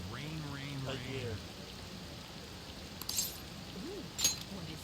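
Steady, soft rain hisses in the background of the video game Persona 5 Royal, with voices talking over it early on and a few light clinks later.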